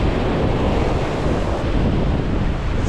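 Ocean waves surge and roar continuously, mixed with heavy wind buffeting the microphone, loud and close with no voices.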